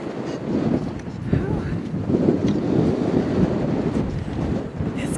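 Strong gusty wind at Lake Michigan buffets the microphone with a continuous low roar, rising and falling, close and loud, with faint surf-like noise underneath.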